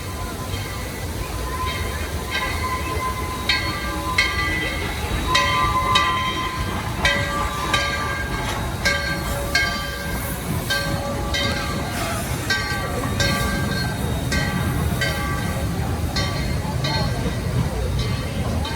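Dollywood Express steam train running at a theme park, with a continuous rumbling, clanking rail noise and rhythmic mechanical clatter nearby, plus tonal whistle-like notes, while a person talks over it.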